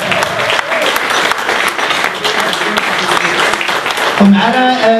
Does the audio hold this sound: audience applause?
yes